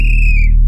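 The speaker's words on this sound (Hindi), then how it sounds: "फिर से जैसे ही चौकीदार सीटी बजाता है" A night watchman blows a whistle: one shrill, steady, high tone lasting about half a second over a low background hum.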